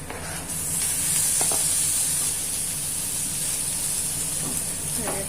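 Tomato goes into a hot pan with capsicum for a breakfast dish, giving a steady, broad sizzle and hiss that holds evenly throughout, with a few faint scrapes or clinks of stirring.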